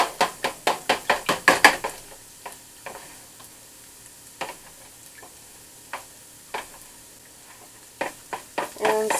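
Egg yolks whisked for a custard: a quick run of sharp, rhythmic clicks from the whisk against the bowl, then slower, scattered taps and knocks at close range.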